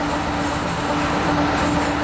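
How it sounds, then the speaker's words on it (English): A small tunnel train carries workers into the mountain, its deafening, steady rumble and rattling wheels filling the space with continuous loud rail noise and a faint steady whine. "Their shift starts with an hour-long, deafeningly loud, bone-shaking journey just to get to the tunnel face."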